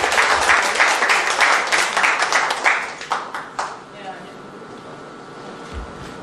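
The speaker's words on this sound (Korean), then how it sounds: "큰 박수로 환영해 주십시오." A conference audience at an emergency party debate forum gives a speaker a welcoming round of applause: a dense burst of many hands that thins into scattered claps and fades out after about four seconds, leaving a quiet room.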